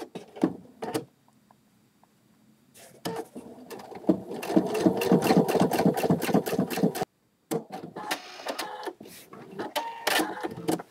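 A sewing machine stitching fabric for an American Girl doll cap runs in steady rapid bursts with brief pauses between, the motor whirring close and clear in a quiet room.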